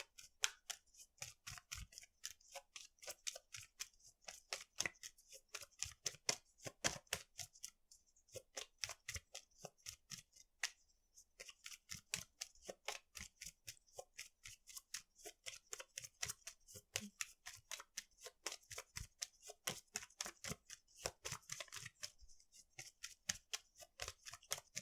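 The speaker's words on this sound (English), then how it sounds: "Shuffle again." A deck of cards is shuffled over and over, a long run of rapid crisp riffling clicks in bursts with short gaps between them.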